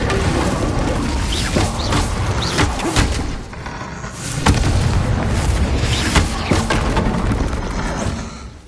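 Booming fire and blast spells from Hogwarts Legacy go off one after another, heavy explosive thumps with crackling tails, loud and close, with a brief lull midway before the barrage resumes.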